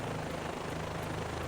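A Bell 407 helicopter in flight in the video game MSFS 2024 over the Grand Canyon, a steady, dense rotor thrum with rapid blade chop and engine whine, loud and continuous with no talk.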